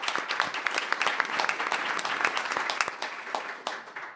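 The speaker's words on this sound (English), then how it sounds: "Give her a round of applause" Audience applause for Kathy Dykstra of the Family Scholar House, a steady mid-distance round of clapping with distinct individual claps scattered through it, holding for several seconds before easing slightly.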